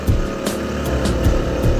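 Honda ADV 160 scooter pulling away under throttle, a steady engine drone with rising rev surges and wind rush, close and loud with no talking.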